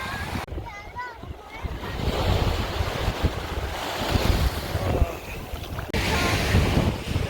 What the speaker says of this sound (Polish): Za duży wiatr jest